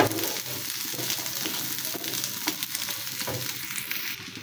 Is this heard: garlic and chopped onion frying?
yes